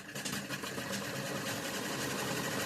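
A sewing machine runs steadily while top stitching a chudi, a continuous close mechanical whir with no pauses, running alone without talk.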